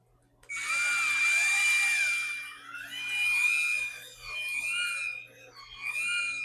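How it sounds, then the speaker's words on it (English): A cylinder hone spins inside an LS V8 engine block in four separate bursts, each a loud, high, wavering whine. Short pauses fall between the runs, with a faint steady hum underneath. "Now this hone is a little bit big for this block, but if you start it gently, it'll be just fine."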